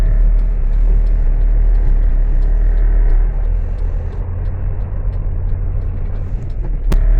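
Cars sit in a traffic jam in Dammam, Saudi Arabia, heard as a steady low engine rumble from inside a vehicle, with faint ticks and one sharp click near the end.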